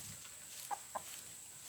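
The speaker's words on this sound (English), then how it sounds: "Look at my chicken" Two soft, brief clucks from a chicken sound a moment apart, faint against a quiet background hiss.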